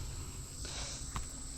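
Insects, bees among them, drone steadily outdoors at a woodland food plot, a thin continuous high-pitched hum holding at an even level throughout with a faint brief rustle near the end and no talking.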